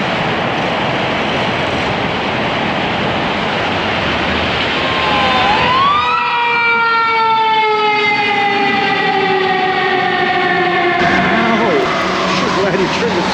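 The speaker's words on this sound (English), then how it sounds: "Glad you turned the siren on." A siren winds up in a tunnel in Ketchikan, Alaska, rising in pitch and then holding a loud, ringing tone over a steady rushing background, with people talking nearby.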